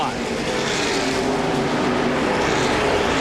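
NASCAR Winston Cup stock cars roar around Talladega Superspeedway during the 1996 Die Hard 500, a dense, continuous engine drone from the pack at speed with crowd-like wash underneath.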